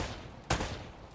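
A single gunshot fired at a barrel in Uncharted: Drake's Fortune, one sharp, fairly loud crack standing out against a steady game background with no talk.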